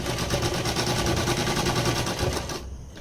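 Sewing machine stitching a falls border along the edge of a sari, a steady close rapid mechanical clatter that runs continuously and stops abruptly near the end.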